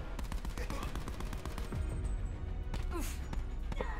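Gun in a Call of Duty Black Ops match firing rapid bursts of shots, a dense crackling stream of reports mixed with impacts and other game effects, loud and close.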